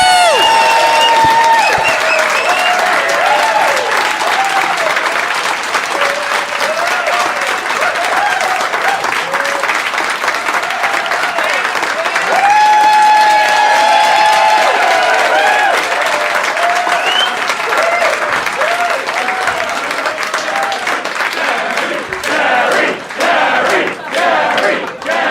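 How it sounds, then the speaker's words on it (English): A live comedy club audience in Canberra applauds and cheers loudly and steadily for the full stretch, a dense wash of clapping with shouts rising through it and a few louder claps near the end. "Let's get a big round of applause for Dave Anthony and Gareth Reynolds"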